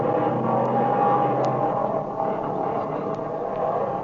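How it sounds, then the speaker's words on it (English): An aircraft engine runs steadily as a sound effect in a 1937 old-time radio adventure drama, a continuous droning hum at moderate level with faint ticks and no voices over it. "That engine's talking now like a lady sewing circle."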